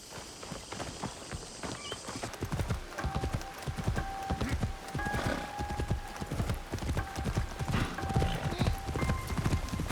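Rapid clip-clop of horse hooves on a hard path in Assassin's Creed Shadows, steady and close, with faint tonal chimes and ambient sounds in the background.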